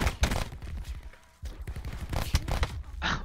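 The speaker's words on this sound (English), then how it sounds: "I almost killed you with that pistol." Pistol fire in Black Ops 4 comes as rapid bursts of loud gunshots with short pauses, close and punchy amid in-game action.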